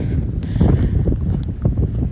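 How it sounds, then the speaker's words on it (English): Wind buffets the microphone over a steady low roar of ocean waves, with swells rising and falling throughout. "now I'm here at the ocean, it's a little windy, but you hear the waves"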